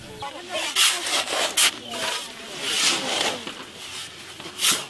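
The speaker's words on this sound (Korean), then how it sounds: "먼저 우물의 미장 작업을 위해 시멘트와 모래를 섞어 물로 반죽합니다" Cement and sand are mixed with water into mortar for plastering a well in Cambodia, giving close, gritty scraping strokes in uneven bursts, some sharper than others.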